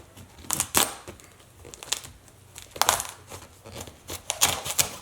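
A knife cuts a spaghetti squash in half with repeated crunchy, crackling bursts as the blade presses and rocks through the tough rind, a series of loud close strokes with short pauses between them.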